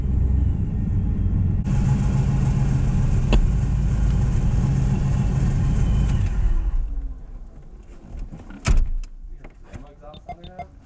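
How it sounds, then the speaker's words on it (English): A car with open exhaust cutouts rolls up with a loud, deep, continuous rumble for several seconds, then drops away, leaving quieter clunks and brief voices at the end. "you might have heard me rolling up with my cutouts open"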